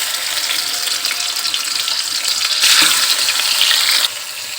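Fish sizzling in hot oil in a wok: a steady, loud crackling fry with no voice, flaring a little brighter and louder partway through, then easing back.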